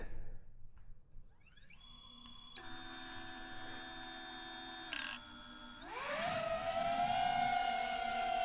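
An FPV drone spins up its motors and lifts off, a rising, tonal electric whine that steps up in pitch before swelling into a loud, steady buzzing whir as it takes flight, close by with no talking.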